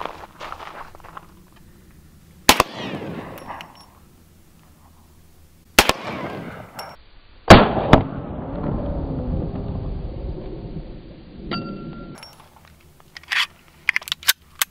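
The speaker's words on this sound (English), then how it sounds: "So now we're gonna do the Desert Eagle, the 50 AE." A Desert Eagle .50 AE fires hollow point rounds at a steel sewer lid outdoors, giving several sharp, loud booming shots with long rumbling echoes that trail off between them.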